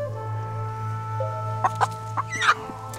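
A chicken gives several short, sharp clucks in quick succession over a steady electronic hum and sustained tones, fairly close and clear.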